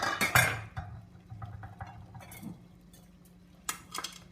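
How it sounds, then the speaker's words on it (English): Clattering pot and utensil noises as chopped meat and bones go into a pot of boiling water for osso buco minestrone, with a few sharp clinks early on and later, over a low steady hum. "now I'm going to add the chopped up meat to the water."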